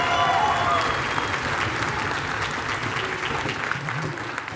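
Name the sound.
audience applause for the senior class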